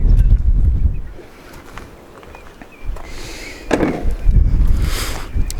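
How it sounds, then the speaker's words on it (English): Gusty outdoor wind buffets the microphone in low rumbling surges that rise and fall, with a few faint knocks and rustles mixed in and no speech. "Sorry guys, it's pretty windy as always."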